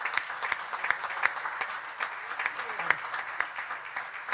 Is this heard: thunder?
no